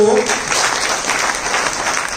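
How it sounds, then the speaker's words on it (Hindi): Seminar audience breaking into applause at a live network-marketing event, a dense, steady wash of many hands clapping that fills the whole stretch, with a brief voice at the very start. "ताली मत बजाओ"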